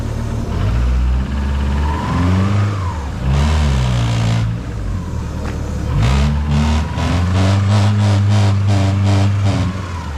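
A Subaru with a swapped exhaust revs and accelerates up close, loud engine rising in pitch through the gears with a brief lift and a rapid burbling pulse from the exhaust.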